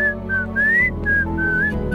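A man whistles a short, wavering melody in a few clear phrases, loud and close over steady low background tones.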